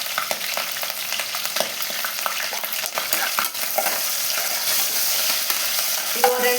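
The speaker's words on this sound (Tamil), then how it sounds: "ஆனியன் வதக்கும் போது எப்போதுமே கொஞ்சம் உப்பு சேர்த்து வதக்கிங்க" Sliced onions sauté with salt in a hot pan for veg dum biryani, a continuous close sizzle broken by frequent scraping stirs of a spatula against the pan.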